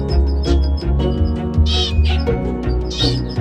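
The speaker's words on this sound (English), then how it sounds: "Let's take a look at the zebra finches now." Zebra finches in an indoor aviary give rapid, nasal chirps and beeping calls, several birds overlapping close to the listener in a busy, continuous chatter with no talking.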